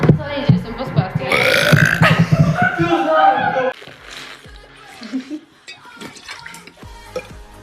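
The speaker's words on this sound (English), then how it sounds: "if I burp, will that be disgusting?" A girl lets out a long, loud burp lasting several seconds, followed by quieter clattering and movement sounds nearby.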